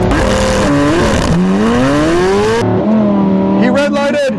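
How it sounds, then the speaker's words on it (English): A Lamborghini Huracan Tecnica in Corsa mode with stability control off launches hard from a standstill, its engine loud and close, pitch climbing through each gear with sharp shifts. "Have an ESC off so we can launch the car."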